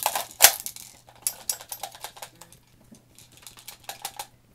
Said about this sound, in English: what you hear in there is the BBs rattling